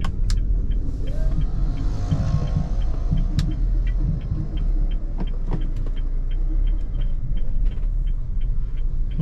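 A Honda Brio driving on a road in Indonesia with a steady low engine rumble and road noise throughout, plus faint periodic ticking like an indicator, no talking.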